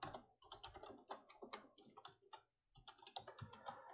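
Quick bursts of keystrokes clatter on a computer keyboard nearby, with a short pause midway before the rapid clicking resumes.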